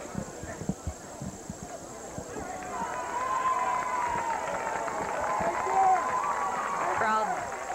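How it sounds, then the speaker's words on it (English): A crowd at a 1989 high school football game between Woodland Hills and Ballou swells into a broad uproar with cheering midway through, under a commentator's voice. "a little uproar from the crowd"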